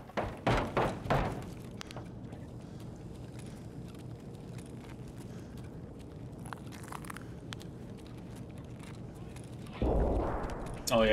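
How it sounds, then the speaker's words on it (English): Footsteps and gunfire in a video game, with a quick burst of heavy thuds or shots at the start over a low steady rumble, then scattered faint ticks and a louder rumbling passage near the end. "Oh, there's footsteps. And there's gunfire."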